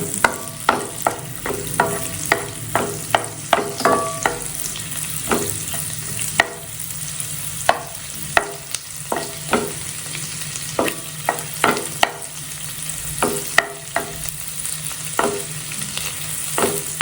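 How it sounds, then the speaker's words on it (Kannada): Garlic and green chillies fry in Amul butter in a pan, stirred with a utensil that scrapes and taps the pan in repeated irregular strokes over a steady soft sizzle, with no voices. "ಅದಾದಮೇಲೆ 2 ಮೆಣಸಿನ್ಕಾಯಿನ ಹಾಕ್ತಾ ಇದ್ದೀನಿ. ಅದನ್ನು ಕೂಡ ಸ್ವಲ್ಪ ಲೈಟಾಗಿ ಫ್ರೈ ಮಾಡ್ಕೊಳ್ಳಿ."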